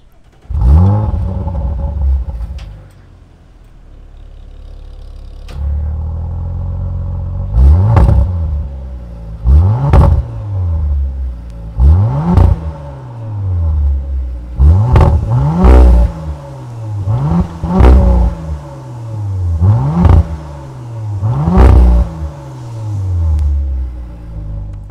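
A 2022 Audi RS5 Sportback with its 2.9-liter twin-turbo V6 starts up and settles, then gives about eight sharp, loud revs in a steady rhythm, each rising and falling back to a rumbling idle.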